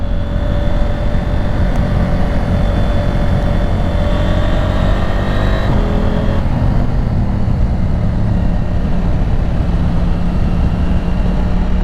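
Motorcycle on Michelin Road 6 tires riding in low gear along a wet road, a loud, steady engine drone and rushing wind noise that shifts in pitch partway through, with no speech.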